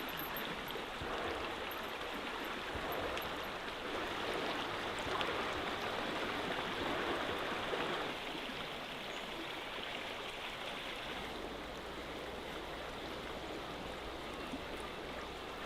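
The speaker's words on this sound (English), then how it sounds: "this creek flows into a bigger river just right there" A salmon creek flows in a steady, broad rush of water. The sound stays even throughout and seems fairly close, with no voices over it.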